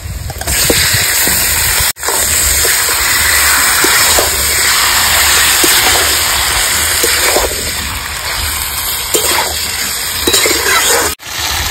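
Marinated chicken meat added to medium-fried onions in a pan, a loud continuous hissing sizzle with crackles and stirring clatter, briefly cut twice.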